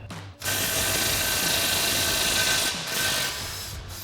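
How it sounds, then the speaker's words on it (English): An impact wrench with a 22 mm socket rattles off the nut of a lower strut mount bolt on a 2024 4WD Toyota Tacoma, a loud continuous hammering burst lasting several seconds with a brief dip partway through. "remove the nut for our lower strut mount bolt. So we'll grab our 22 mil socket on our impact to do that."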